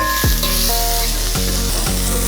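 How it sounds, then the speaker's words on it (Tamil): Onions sauté with salt in a hot pan, a loud continuous sizzle with a few sharp clinks and scrapes of a utensil against the pan. "வெங்காயம் கொஞ்சம் வதங்கணும்"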